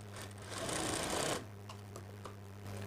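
A sewing machine stitches a diagonal seam on blouse piping in one quick whirring run of just over a second, followed by a few soft clicks and a steady low hum.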